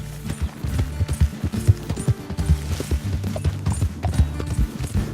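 Horse hooves clip-clop in Red Dead Redemption II, a close, loud, uneven run of hoof strikes on hard ground, repeating steadily throughout with no voices.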